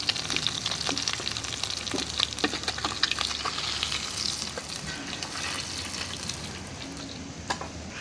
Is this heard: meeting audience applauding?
no